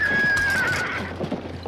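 A spooked horse pulling a carriage gives a loud high whinny while hooves clop beneath it, in a dense, noisy outdoor mix.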